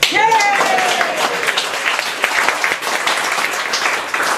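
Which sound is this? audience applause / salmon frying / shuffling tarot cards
audience applause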